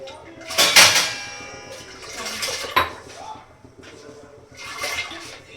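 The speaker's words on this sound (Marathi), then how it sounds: "मी पाण्यामध्ये डाळ टाकून देते." Lentils (dal) dropped into a pot of hot water on a home stove, giving a few splashy bursts with clinks of the pot, loudest near the start and again at the end.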